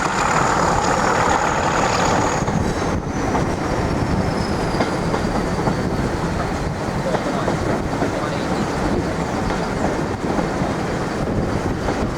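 A class 31 diesel locomotive pulls away from Groombridge station toward Eridge, its engine throbbing steadily under the clickety-clack of rail wheels, close and loud throughout, with a faint whine fading early on.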